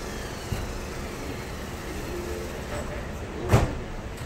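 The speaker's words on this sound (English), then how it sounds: "Please hold on, this train is departing." The ATL SkyTrain at Atlanta airport rumbles steadily as it pulls away, with a low continuous drone and a couple of brief clunks, one louder near the end.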